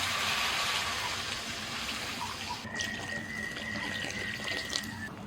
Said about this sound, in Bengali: মশলাটা ভালো করে কষিয়ে নিয়েছি মশলা থেকে তেল ছেড়ে গেছে এবার জল দিচ্ছি